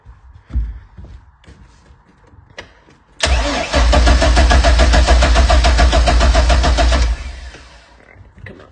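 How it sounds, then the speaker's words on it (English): A car engine cranks and catches, then roars loudly at a steady run for several seconds before cutting back down, with a few clunks before and after. "Engine runs good."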